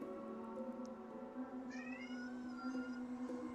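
A cat meows several times in short, whining calls near a shared cat bed, faint and a little distant over a steady low hum.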